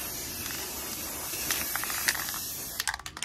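Steady hissing from an aerosol spray being sprayed indoors, running continuously at close range with a few brief bursts, then breaking into short sputtering hisses at the end.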